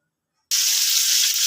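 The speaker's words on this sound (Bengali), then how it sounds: "এবার মাছগুলো আমি একটু এপিট সেপিট করে নেব, অর্থাৎ একটু সাঁতলে নেব।" Pakal fish fillets dropped into hot oil in a wok for a light fry, a sudden loud hissing sizzle that starts abruptly and holds steady, close and alone.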